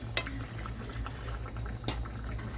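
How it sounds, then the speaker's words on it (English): Gravy with liver simmering in a pot, a soft steady bubbling with a couple of sharp utensil clinks against the pan, fairly quiet and close. "Just let it boil for a few minutes there."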